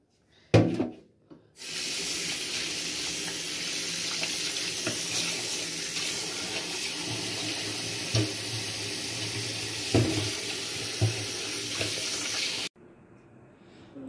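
A tap runs steadily into a sink for about eleven seconds while a fish head is rinsed under it, a close, continuous rush of water with faint knocks underneath, starting after a short clatter and stopping abruptly.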